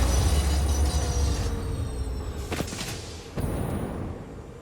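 Train rumbling past in a video game, a heavy low roll that fades, followed by a couple of sharp metallic bangs and a hiss.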